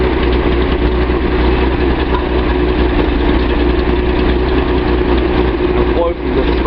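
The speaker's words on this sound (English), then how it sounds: "Let's see how slow we can idle it." A Datsun 280Z with an L28 inline-six and a misfire fault idles steadily, a loud, close, continuous rumble that holds even throughout.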